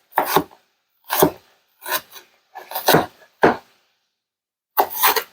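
Onion cut in half with a knife, a handful of separate short crunchy slicing strokes spaced out with silence between them, close and crisp.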